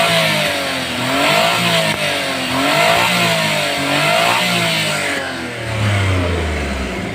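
A Suzuki K6A car engine revving up and down in repeated swells, loud and close, with a rough running tone and a drop toward idle at the end, no talk.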